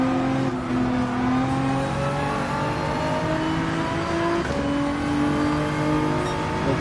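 A race car engine in Gran Turismo 7 revs hard and steadily for the whole stretch, its pitch climbing and falling through gear changes under a continuous loud drone.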